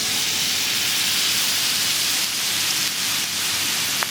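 Masala rub fish searing in a hot pan over medium-high heat in a Cape Town hospitality school kitchen, a steady loud sizzle and hiss that runs unbroken throughout with no voices.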